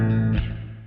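Bass guitar played through a TONEX compact amp modeler pedal with effects, a low sustained note ringing loud and steady, then a brief pluck and a softer, decaying tone with shimmering effect tails.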